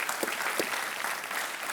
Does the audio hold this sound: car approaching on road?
no